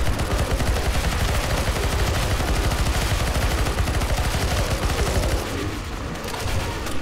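Sustained, dense gunfire fills a Counter-Strike: Global Offensive zombie escape mod round on the ze_atix_apocalypse map, many weapons firing at once in a loud continuous barrage that eases only slightly near the end.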